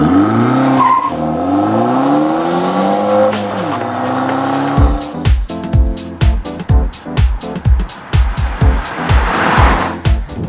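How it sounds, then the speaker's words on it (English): A 2013 Dodge Dart drives hard with sustained tire squeal that rises and bends in pitch, then gives way to a rapid run of sharp repeated bangs and thumps, loud and close, with no talking. "All right, Nathan, we are in the brand new Dodge Dart."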